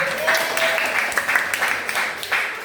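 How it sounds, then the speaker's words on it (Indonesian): A class of students claps for a student group after a lesson on handling spilled lab chemicals with protective gear, a steady patter of applause running about three seconds with a brief voice over it early on. "Tepuk tangan untuk kelompok 1,"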